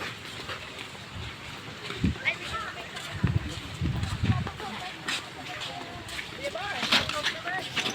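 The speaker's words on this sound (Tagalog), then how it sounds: "Dito na kami sa bangka." A small boat out on open water, with wind buffeting the microphone, water sloshing, and people talking throughout.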